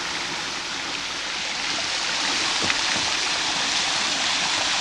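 Hickory Nut Falls and its cascades at Chimney Rock, a steady, full rush of falling water heard close and loud throughout.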